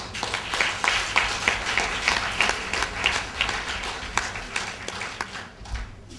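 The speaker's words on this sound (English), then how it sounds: "Could you give them a big clap, please?" A school audience applauds students of Independent City Primary School at an evening presentation, with sustained, dense clapping from many hands filling the room at steady volume before gradually thinning out.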